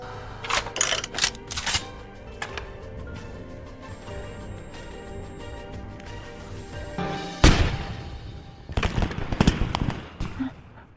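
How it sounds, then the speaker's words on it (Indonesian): Sharp crackling bangs and pops in irregular bursts over a steady background hum, with a loud boom partway through. "Kembang api tersebut membuat konsentrasi Sebin buyar."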